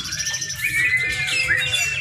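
Songbirds sing at an outdoor songbird competition in Batam, Indonesia, with several birds trilling and whistling bright overlapping phrases at once, loud and continuous.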